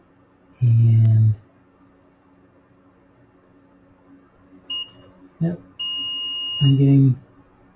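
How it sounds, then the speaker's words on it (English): Two short electronic beeps from a multimeter continuity test on a Columbia 2692 8-track player, then another beep sequence a few seconds later, with brief speech in between against a quiet background. "what I'm listening for is the beep"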